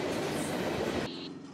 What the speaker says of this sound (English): Take this Norfolk and Southern freight train for example.